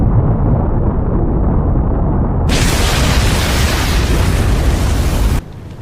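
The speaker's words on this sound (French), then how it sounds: "l'explosion simultanée de 4 orbes" Four orbs explode at once in the Naruto Shippuden anime: a loud rumbling roar that jumps into a brighter, crackling blast midway, then cuts off sharply to a low, quieter rumble.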